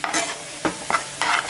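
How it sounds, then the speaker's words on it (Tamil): Vegetables and egg are stir-fried for chicken fried rice, with a spatula scraping through the pan in three or four quick strokes over a steady close sizzle. "இதெல்லாம் சேர்த்துட்டு நல்லா ஒன்றா காய்கறியோட பிரட்டி விட்டுருவோம்."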